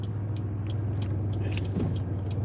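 A car drives steadily along a road and slows toward a stop line, its low engine rumble and road noise continuous and close throughout, with no talking.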